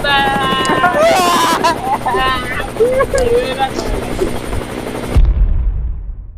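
Helicopter rotor noise whirs in the background while voices talk and exclaim over it, ending in a thump and sudden quiet.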